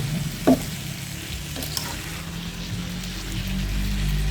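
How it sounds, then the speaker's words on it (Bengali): Pointed gourd (potol) cooks with spices in a pan, a soft steady sizzle with a couple of brief stirring knocks near the start. "মশলার সাথে সুন্দর করে সম্পূর্ণ পোটল আমি মিশিয়ে নিয়েছি"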